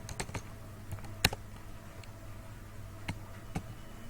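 Sparse keystrokes on a computer keyboard while PHP code is written, a handful of light clicks with one sharper tap, close and quiet over a faint steady hum, no talking.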